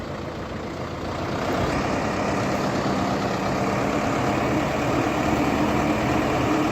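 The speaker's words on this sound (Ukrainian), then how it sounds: "Тракторець їде в місто Кривий Ріг." A four-cylinder turbocharged all-wheel-drive SOLIS 105 tractor engine runs steadily close by, a loud, continuous low rumble that swells slightly after the first second and holds level throughout, with no talking.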